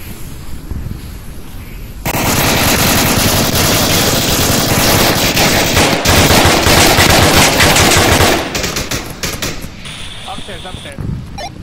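Rapid automatic gunfire in the Onward VR shooter game, a loud dense burst of shots lasting several seconds, with quieter firing and a player's voice talking before and after.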